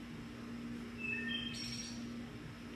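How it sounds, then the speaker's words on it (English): A bird sings a few short, clear whistled notes outside a balcony, heard over a steady low household hum and background noise. "Listen to the birds."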